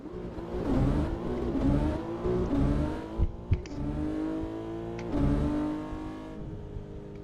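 A Lamborghini sports car in the Assetto Corsa racing game revs and accelerates loudly, its engine tone rising and falling in several surges with a couple of sharp transients, no talk.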